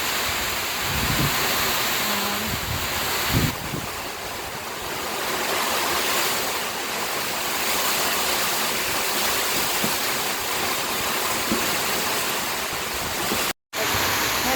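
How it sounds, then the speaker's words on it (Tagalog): Heavy rain and gusting wind from Typhoon Ada roar steadily and close, a dense unbroken wash of noise for the whole stretch, cutting out briefly near the end. "malakas ang bagyong Ada"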